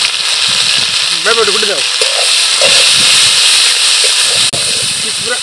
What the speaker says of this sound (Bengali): তেলটা গরম হয়ে গেছে, এবার দিয়ে দিলাম গোটা পরিমাণ জিরা, কাঁচা ঝাল বাটা, পেঁয়াজ আর রসুন বাটা